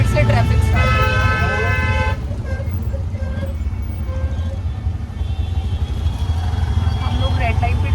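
Busy road traffic at a red light in Gurugram, with a car horn tooting in a repeated burst near the start over a steady roar of engines, and further fainter honks later, with people talking throughout.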